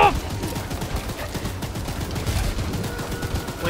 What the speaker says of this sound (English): I'm shooting him as much as I can, but it's not working!